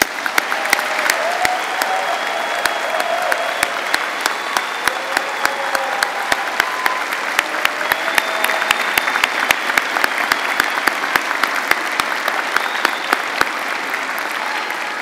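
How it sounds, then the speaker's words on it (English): An audience at a Coastal Carolina University honors convocation claps steadily for recognized students, a dense, sustained round of applause filling the hall with a few faint whoops for about fifteen seconds. "Now, I ask everyone to please join me as we applaud all of the students recognized here this evening."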